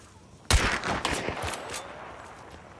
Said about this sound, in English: He's shooting with a pistol.